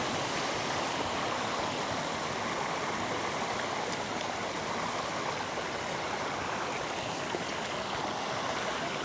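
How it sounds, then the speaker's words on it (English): A waterfall on a rain-fed creek crossing rushes continuously, a steady broad hiss of falling water at moderate distance with no voices. "here's the waterfall we're gonna cross."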